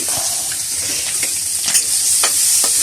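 Garlic and onion sautéing in a hot wok, a loud, steady close-up sizzle with a few light stirring scrapes through it.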